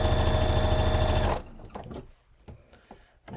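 A sewing machine stitching the seams of a thrifted scarf runs in a fast, steady mechanical rattle for over a second, then stops, leaving quiet handling sounds.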